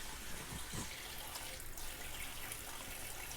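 Tap water runs steadily over a small squishy mochi fidget toy to rinse off soap, a continuous close splashing flow at the sink with no talking.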